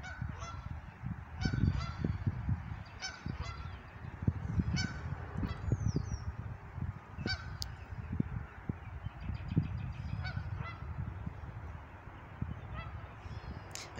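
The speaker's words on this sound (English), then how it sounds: "There's our friends over there, Canada geese." Canada geese honk repeatedly at a distance outdoors near water, scattered calls overlapping against a low rumbling background.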